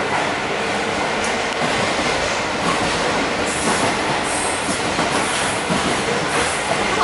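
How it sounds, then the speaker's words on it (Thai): Steady, loud rumble and rattle of a commuter train running on rails between Cascais and Lisbon, heard from inside the carriage, with faint wheel squeals and clatter throughout and no talking. "ต้องเดินทางรถไฟอยู่สองคนในรถไฟเลย"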